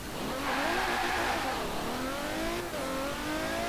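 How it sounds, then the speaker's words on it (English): An upgraded original engine in a 1998 Mercedes-Benz AMG CLK GTR in Forza Horizon 4 accelerates hard, its loud, close whine rising through the revs, dropping briefly at a gear change, then climbing again. "this is the original engine in this car as well, just massively upgraded"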